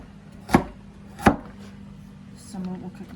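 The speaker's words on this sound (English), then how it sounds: "So just a rough chop." A knife roughly chops vegetables for a cheese soup: two sharp, close cuts against the board, then a softer scrape.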